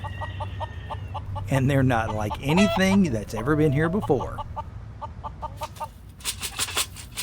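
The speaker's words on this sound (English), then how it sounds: "You can now find chickens at Cannonsburgh Village" Chickens at a historic village attraction cluck in a repeated, moderately close rhythm, running beneath a person talking through the middle of the clip.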